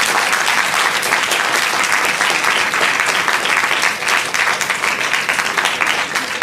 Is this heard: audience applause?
yes